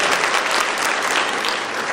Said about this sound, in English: clap if you knew